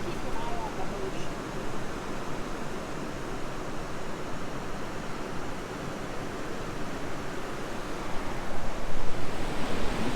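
Ocean waves and surf on the Oregon coast near tide pools, a steady broad roar with a swelling wash toward the end, heard alone.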